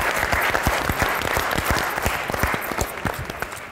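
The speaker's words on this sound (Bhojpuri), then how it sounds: "एक बार ताली बजाई" A live audience at a Bhojpuri comedy and Chhath song show claps steadily and loudly, many sharp hand strikes blending into a dense, continuous burst of applause close by.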